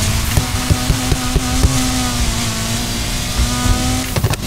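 A starter car's engine revving in the racing game Need for Speed Heat, a steady mid-pitched engine drone held close and loud, with faint tire noise and a few sharp clicks as the revs rise and shift.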